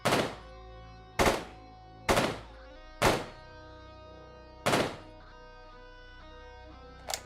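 Gunfire from the video game Quasimorph: five loud, sharp shots spaced about a second apart, each with a ringing metallic decay, then a fainter sixth shot at the end, with no talking.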